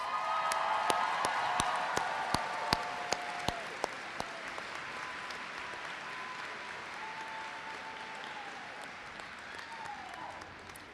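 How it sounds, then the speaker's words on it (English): A room of parents and guests applauds bachelor's degree recipients in curriculum and instruction at a pre-commencement ceremony, sustained crowd clapping with a few sharp nearby claps early on, slowly tapering over about ten seconds. "Can we give a good round of applause?"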